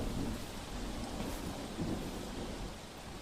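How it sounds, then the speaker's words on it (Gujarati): Heavy monsoon rain pours down in Ahmedabad with a low roll of thunder rumbling through the steady hiss of the downpour, fairly quiet and distant, with no voices. "અમદાવાદના અલગ અલગ વિસ્તારોમાં ભારે વરસાદ વરસી રહ્યો છે"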